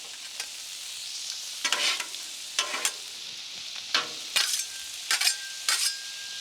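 Garlic, vegetables and pork sizzle on a hot Blackstone flat-top griddle, with a steady hissing fry broken by repeated scraping bursts of a spatula stirring and tossing the food.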